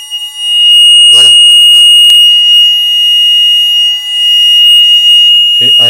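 A fire alarm sounder on a UNIVERSAL DET Europa fire panel, set off by a manual call point, gives a loud, continuous high electronic tone, with a person speaking briefly at the start and end.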